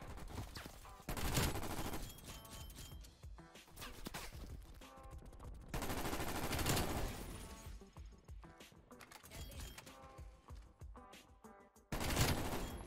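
Repeated bursts of Vargo 52 assault rifle fire in Call of Duty: Cold War, dense automatic volleys with loud peaks and brief pauses, carrying on throughout with no talking.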